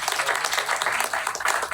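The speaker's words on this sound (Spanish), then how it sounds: "Quiero le dar más fuerte ese aplauso a Dios" An audience applauds in a dense, continuous patter of clapping that holds steady at moderate loudness throughout the short stretch.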